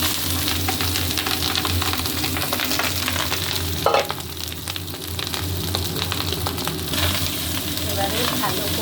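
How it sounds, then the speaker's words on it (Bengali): Rice fries in a pan with spices and curry leaves, giving a loud, continuous sizzle with occasional stirring scrapes throughout. "মশলাগুলো ভাজা হয়ে গেছে। এবারে রাইস দিচ্ছি।"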